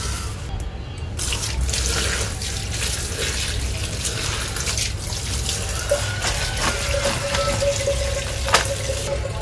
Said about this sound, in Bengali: এখন এগুলো আমি এখন সুন্দর করে ধুয়ে নিব বেসিন থেকে